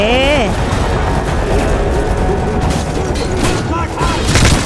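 Dense automatic gunfire and blasts from Call of Duty Modern Warfare 3 roar continuously and loudly, with voices talking over the constant barrage.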